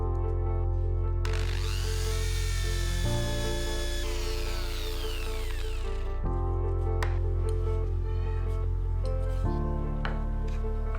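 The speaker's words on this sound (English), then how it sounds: "I drill the mark using my DIY drill guide." A power drill bores into HMR board through a homemade drill guide, a loud whining, grinding tone that shifts pitch as the bit bites, with steady motor hum and brief pauses between pushes.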